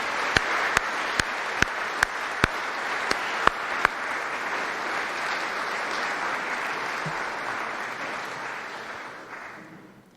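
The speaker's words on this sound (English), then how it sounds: "A round of applause for these individuals," An audience at an Order of Manitoba investiture ceremony claps in a sustained round of applause, several sharp, loud claps standing out early before the crowd's steady clapping fades away near the end.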